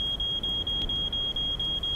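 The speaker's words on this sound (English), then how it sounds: "Smoke alarm!" A smoke alarm in the video game Little Inferno sounds a steady, high, piercing tone that pulses briefly. The alarm is loud and continuous over a low background rumble.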